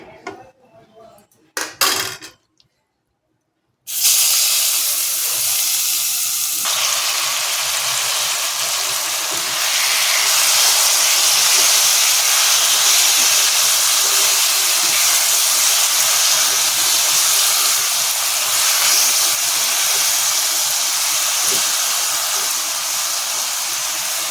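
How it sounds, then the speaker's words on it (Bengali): Taro leaves drop into hot spiced oil on a medium gas flame, and after a brief clatter and a moment of quiet, a loud, steady sizzle follows that grows slightly stronger partway through. "এবারে কচু শাকটা আমি এর মধ্যে দেব।"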